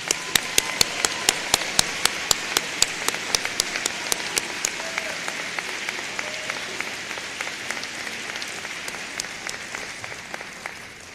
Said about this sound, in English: Now, let's all applaud them.